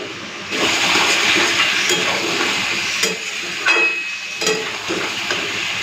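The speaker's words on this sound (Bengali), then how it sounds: "একটুখানি এই মাছ ভাজার মতন চিকেনটাকে একটুখানি ভেজে দিতে হবে" Chicken pieces frying in a pan before salt is added, a close continuous sizzle with a few scraping stirs and bursts of spitting oil, with no voices.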